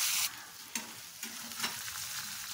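Rice fries in a pan for ration rice biriyani, giving a continuous close sizzle with a couple of brief stirring scrapes and no voices.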